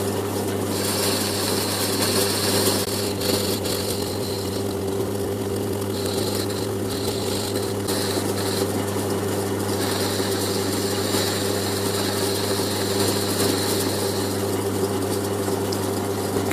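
A lathe turns a steady 15-degree taper on the end of a coupler, a continuous even mechanical hum with faint intermittent higher cutting scrapes and no talk.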